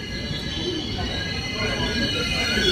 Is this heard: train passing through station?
yes